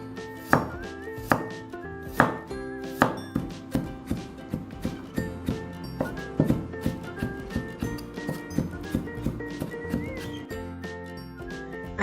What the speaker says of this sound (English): Let's now mince some ginger.